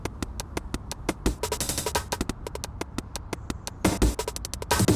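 Drum breakbeat chopped and played as pitched notes from a Q sampler in a drum and bass production, with crisp clicky hits mixed with longer hits in a choppy, syncopated pattern, loud and alone.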